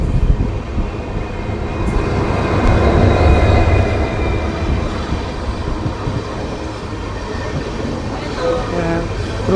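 An Amritsar–Bikaner superfast express rolling into Talwandi station, heard from on board: a loud, steady rumble of wheels on rails with rattling carriages that eases slightly as the train slows.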